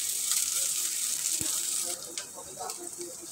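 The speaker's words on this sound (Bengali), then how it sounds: "তেল গরম হয়ে গেলে আমি পেঁয়াজ কুচিগুলো দিয়ে দেব।" Chopped onion and garlic frying in hot oil in a pan, a steady bright sizzle that holds throughout, with a few small pops and clinks near the end.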